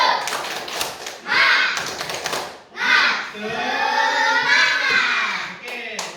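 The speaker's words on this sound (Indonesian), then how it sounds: "1, 2, 3. Tepuk semangat." Schoolchildren in a classroom clap out a rhythmic tepuk semangat pattern in loud bursts, mixed with children's voices chanting along.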